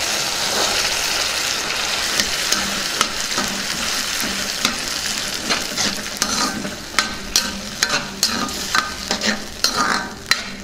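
Green peas stirred in a frying pan for curry, a steady sizzle punctuated by a run of sharp spoon clicks and scrapes that grow more frequent toward the end, close by with no talk.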